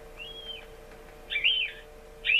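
High, thin squeals repeat in short bursts over a steady electronic hum, a rat distress call played through the small speaker of an electronic predator caller.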